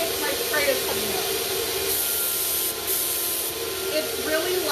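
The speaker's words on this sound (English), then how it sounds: "I get this nice fine mist of a spray" A paint spray gun hisses a fine mist in a steady, close, continuous spray with slight dips in strength, while faint voices can be heard underneath.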